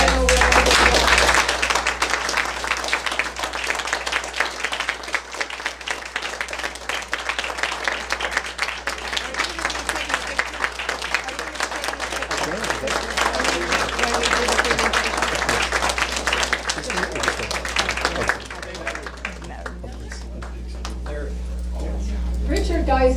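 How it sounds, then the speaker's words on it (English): A large audience applauds steadily, dense clapping filling the room for about twenty seconds before tapering off near the end. "Let's give these gentlemen one final round of applause"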